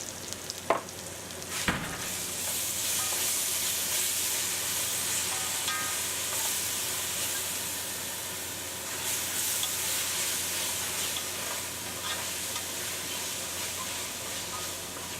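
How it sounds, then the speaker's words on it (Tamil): Ginger garlic paste sautéing with onions in a pan for egg curry, a sharp clank or two at the start, then a long, steady, hissing sizzle that holds evenly with no talking. "வெங்காயம் நல்லா வதங்கினதுக்கப்புறம் அடித்து வச்சுருக்க இஞ்சி பூண்டு பேஸ்ட்டை போட்டுடலாம்."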